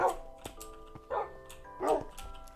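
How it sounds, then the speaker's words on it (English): Dogs barking in a Minecraft survival game: three separate yapping bursts spaced about a second apart, fairly close and moderately loud, over a faint tonal game background. "Did I hear more dogs outside?"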